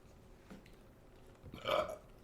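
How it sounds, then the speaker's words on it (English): A single low, throaty burp rises briefly against a quiet background, with a faint earlier rumble. "He's gonna burp."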